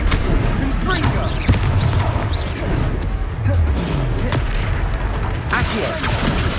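Confringo blasting spells explode during a battle in Hogwarts Legacy, a video game: dense booming blasts and crashes over a constant roar of combat noise, with sharp impacts near 1.5 and 5.5 seconds and voices shouting along the way.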